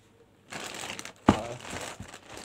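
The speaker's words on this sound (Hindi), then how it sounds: "अब इसको करते हैं अनबॉक्स, देखते हैं ऑर्डर सही आया नहीं आया" Plastic parcel packaging from a Daraz order crinkles up close as it is handled for unboxing, with one sharp crackling burst in the middle of the rustling.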